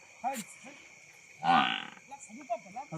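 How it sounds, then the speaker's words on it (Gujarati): A cow moos once in a short, fairly loud call near the middle, with voices talking briefly before and after it. "આ રહી ગાયનો અવાજ"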